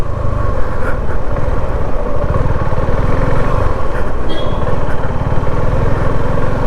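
A Suzuki V-Strom 250 SX motorcycle engine while riding, a loud, steady low drone with continuous wind rush and no voices.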